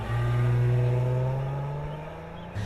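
A Dodge Journey with Chrysler's 3.6-liter V6 accelerates with a steady, rising engine drone that stays loud before easing off slightly near the end, with no voices.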